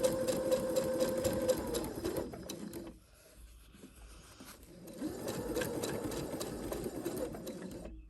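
A sewing machine stitches curved fabric pieces with a steady, fast mechanical whirring hum, close and continuous, pausing for about two seconds midway before resuming.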